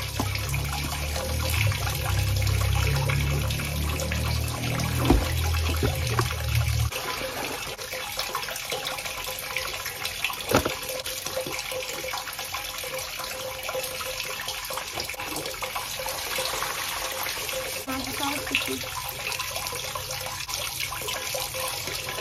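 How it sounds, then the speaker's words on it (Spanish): Washing water being dumped out and clean water poured in for rinsing laundered clothes, a heavy gushing rush at first, then lighter running and splashing water with occasional knocks, close and continuous with no speech. "ahorita le voy a botar toda esa agua y le voy a echar agua limpia para ir a tenderla"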